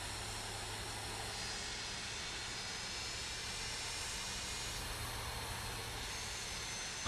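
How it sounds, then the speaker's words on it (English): Auxiliary power unit of an MD-80 airliner running in a flight simulator, a steady broadband roar and hiss with a low hum, constant and unbroken throughout. "APU's on the line."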